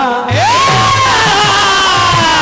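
An audience at a live folk devotional singing performance breaks into loud, continuous cheering and applause, with a sustained tonal line running through the crowd noise.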